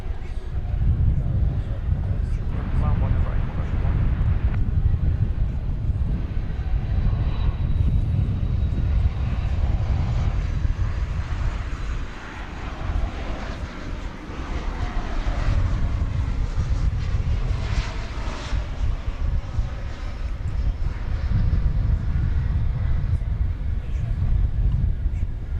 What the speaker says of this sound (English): we have this American Airlines MAX 8 arriving from Tucson